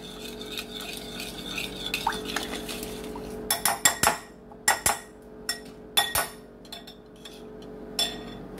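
A spoon stirs bacon ranch chicken sauce in a crockpot, first soft scraping, then a run of sharp metallic clinks and knocks against the pot's rim in irregular bursts, close and alone.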